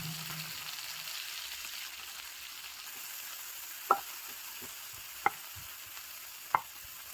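Onion fries in hot oil in a pan, giving a soft, steady sizzle. Three sharp clinks of a stirring spoon against the pan stand out in the second half.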